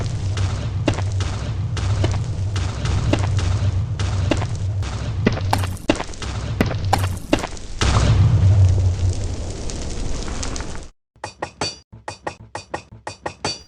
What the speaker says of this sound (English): Which is of course going to be the good old netherite bed blasting.